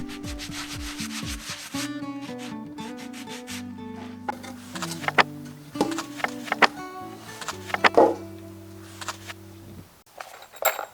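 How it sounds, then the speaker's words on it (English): Sandpaper or a sanding block rubs along a cedar 4x4 prepared for a raised garden bed, making rasping strokes in a loose rhythm. The sanding is close and sits under background music, with no talk. "I highly recommend taking some sandpaper or a sanding block to knock down those chips and tears from cutting."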